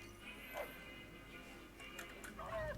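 Faint, short barks from Rex, a ghoul dog companion in Fallout: New Vegas: a couple of quiet yips set well back in a low game soundscape.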